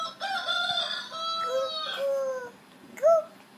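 A young child at bedtime imitates a chicken with long, wavering crowing calls in a high, strained voice, close up, ending with a short sharp squawk.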